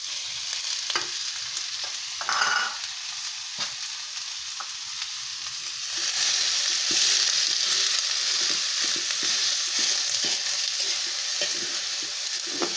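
Ground chicken frying in a pan, a steady close sizzle with repeated scraping stirs, growing louder and denser partway through.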